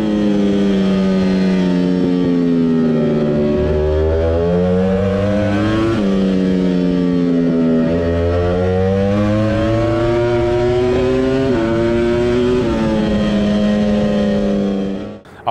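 A loud, high-revving Ducati Panigale V4 R superbike V4 engine rises and falls in pitch in repeated sweeps, snarling up through the rev range, close and continuous with no talking.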